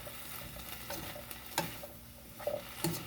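Gailan greens cooking down in a pan with salt and pepper, giving a soft steady sizzle broken by a few scraping stirs, with no talking.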